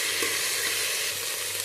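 A whole tomato hits hot oil in a frying pan while cooking sambar rice, giving a steady, loud, broadband sizzle that carries evenly through the short moment with no talking.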